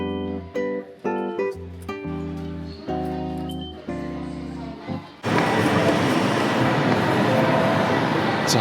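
On platform 2 of Sapporo station, a tonal station melody plays in short bursts before a loud, continuous rushing rumble from a train to Otaru takes over.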